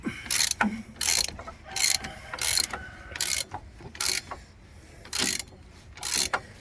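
A ratchet clicks while turning a rusty bolt on a 1997–2001 Jeep Cherokee XJ during a front wheel bearing job. It makes about ten loud, close bursts of rapid clicking, each separated by a short pause.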